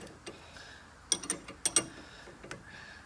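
A ratchet tightens locking nuts on the new sway bar end links of a 1982 Trans Am, making a few quiet, close mechanical clicks and short metallic ratcheting bursts, with no voices.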